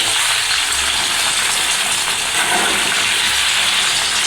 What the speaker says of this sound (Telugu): సిమ్లో పెట్టుకొని చక్కగా ఫ్రై చేసుకోవాలండి.